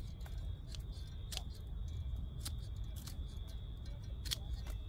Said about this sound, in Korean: 요것도 이렇게 줄기를 다 잘라줍니다